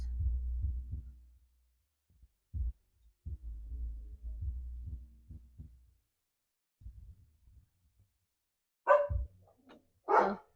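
A dog barks several times in short, loud bursts near the end, after an earlier stretch of low, intermittent thumping and rumbling noise.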